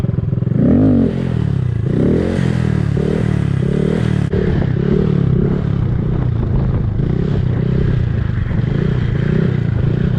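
A motorcycle pulls a wheelie while the rider drags a foot on the ground. The engine revs loud and close for the whole stretch, mixed with rough scraping and clatter, and nobody speaks.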